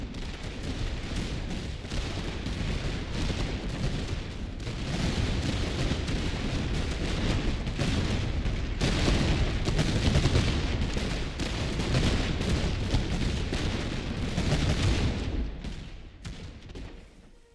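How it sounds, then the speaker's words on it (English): Sustained rolling musket fire from massed infantry in the battle game Master of Command, British side, a dense crackle of overlapping shots swelling to a loud peak mid-way before thinning and fading near the end. "They still sound like they haven't switched back to volley fire."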